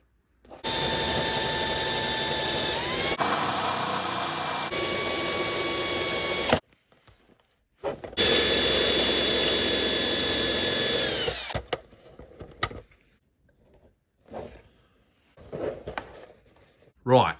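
A small power tool cuts a little piece out of plastic in two loud whining bursts with a pitch shift midway, separated by a brief pause, then faint handling noises.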